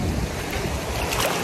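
River water flowing, a steady broadband rush with wind buffeting the microphone outdoors, continuous and fairly loud throughout with no voices.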